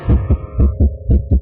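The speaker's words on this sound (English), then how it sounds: "This is what most people's heart rate sounds like when they're getting their taxes done." A fast heartbeat thumps in quick, evenly paced lub-dub pairs, loud and close, over a low steady hum without any talking.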